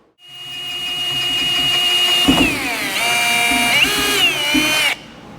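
A power drill whines loudly for several seconds, its pitch dipping and rising as the bit bites into a metal plate for a hood hinge, then cuts off.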